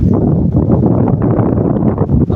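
Strong wind buffets the microphone at a marine park by the sea, a low, rumbling roar that gusts and flutters continuously from start to finish.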